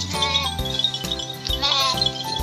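Goats and sheep bleat at feeding time while being given tomatoes and shredded cabbage: several loud, close, overlapping bleats follow one another in quick succession with no talking.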